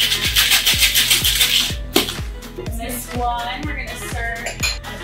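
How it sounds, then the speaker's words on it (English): A summer patio cocktail with lemon is shaken hard over ice, giving a fast, regular run of close rattling strokes of ice against the shaker, with some clinking toward the end. "Ice it down. Give it a good shake."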